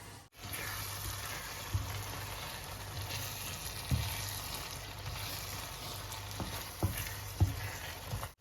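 Biryani ingredients fry in a pan with a steady close sizzle throughout, broken by a few soft knocks and scrapes of stirring.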